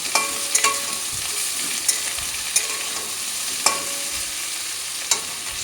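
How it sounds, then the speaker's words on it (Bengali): Potato and pointed gourd pieces fry in a little oil with a steady soft sizzle broken by regular clicks and scrapes of a spatula roughly every second, close and without talk. "এখানে যে আলু পটলটা ভাজছি একটু ভাজা ভাজা হয়ে আসলেই দেখো তেল আমি একদমই কম দেওয়ার চেষ্টা করেছি"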